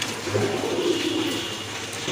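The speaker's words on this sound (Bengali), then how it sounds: "দেখেন খুবই সুন্দর এক জোড়া কবুতর" A pair of pigeons at a pigeon farm gives low, soft cooing, a faint continuous burble over a hushed background with no one speaking.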